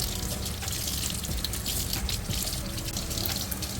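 A mango seed is washed under a running tap: a steady, close, broadband rush of water splashing over the seed in a sink, continuous and unbroken throughout.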